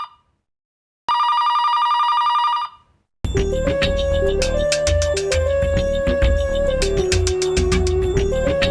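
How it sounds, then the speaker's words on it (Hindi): A mobile phone rings indoors: a sustained electronic tone sounds first, then after a short gap a loud melodic musical ringtone plays on with a steady beat. No one talks over it. "फोन को भी अभी आना था।"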